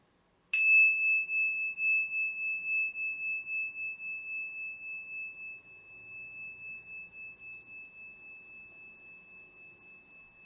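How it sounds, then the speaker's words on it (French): One small bell is struck once and rings with a clear, pure tone that slowly fades over about ten seconds, with nothing else in the room. "Par exemple, le son d'une petite cloche."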